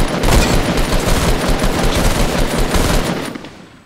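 Rapid automatic gunfire from several players shooting in a battle-royale match, a dense loud burst of shots rattling for a few seconds before tailing off.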